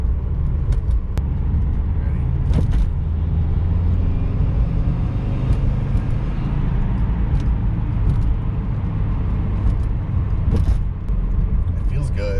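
Inside a used Subaru being driven on the road, a constant low rumble of road and engine noise fills the cabin, with people talking over it.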